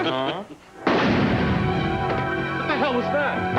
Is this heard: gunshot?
yes